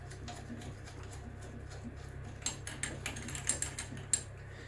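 Nut being threaded back onto a boiler heating flow manifold pipe, faint close metallic clicks and ticks picking up into a few sharper taps toward the end, quiet with no voices.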